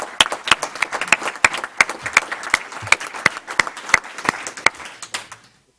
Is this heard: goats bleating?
no